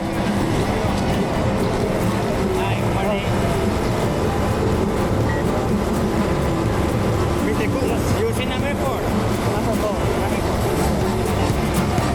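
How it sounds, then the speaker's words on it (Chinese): A passenger train sets off from Peru toward Aguas Calientes, the town below Machu Picchu, with a steady, loud rumble of wheels and carriage noise throughout and indistinct voices in the cabin. "进去不久后，火车便出发前往热水镇。"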